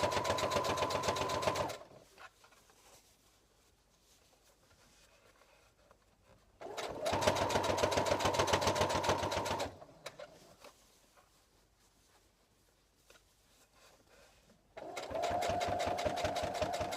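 A sewing machine stitches a new ironing board cover, running in three loud bursts of steady rapid stitching separated by quiet pauses while the fabric is repositioned.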